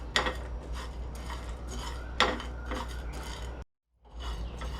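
Sandwich masala spices are dry-roasted in a pan and stirred with a metal utensil, which gives repeated light scraping and clinking strokes over a low steady hum, broken by a brief silence.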